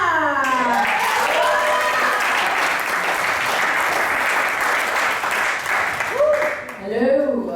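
An audience at a stand-up comedy show applauds a comedian, with dense, sustained clapping that swells and fills the room, accompanied by a voice speaking at the start and more voices near the end.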